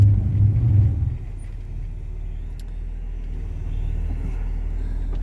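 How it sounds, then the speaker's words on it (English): A car engine rumbling steadily while driving on a morning road, a deep constant drone from inside the vehicle that swells briefly at the start and again near the end, with no talk. "we'll go for a little bit of a drive here this morning"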